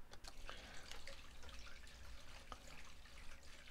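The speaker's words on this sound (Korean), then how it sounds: "물 흐르는 소리가 나네요." Water runs continuously at low volume in a rural setting, a soft steady wash with small drips and splashes scattered through it and no voices.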